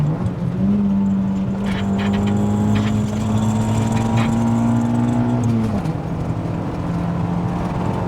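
Engine of a Honda Civic EG4 hatchback droning steadily while driving, with a held pitch that dips near the end as revs drop, loud and close from inside the cabin.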